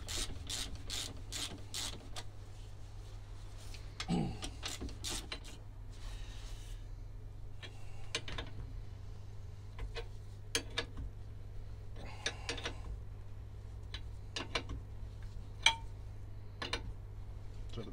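A puller works against a Citroen 2CV steering rack, producing a series of sharp metallic clicks and ratcheting ticks at close range. Several clusters of clicks fall over a steady low hum, with no talk.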